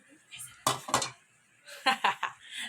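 Chicken and finely chopped onions go into a pot in a home kitchen, with metal utensils scraping and clinking against the pan in two short bursts, fairly quiet.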